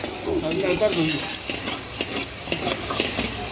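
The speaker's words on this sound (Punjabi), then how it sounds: "ਚਟਨੀ ਨੂੰ ਲੱਗ ਰਿਹਾ ਤੜਕਾ" Hot tempering hits a bowl of chutney with a short, bright sizzle near the middle, surrounded by stirring and light clinks of utensils, all fairly close.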